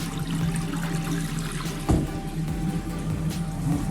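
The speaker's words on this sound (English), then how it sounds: "We do have a little drip coming from here." Water trickles and drips from a basin's bottle trap beneath a newly fitted bathroom sink, a steady close wet patter with one sharper splash partway through.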